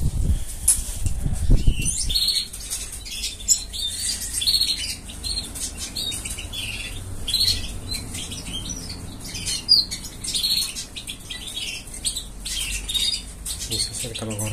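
A young sparrow flutters its wings in quick bursts and gives sharp chirps and squawks close by, after a low thump near the start.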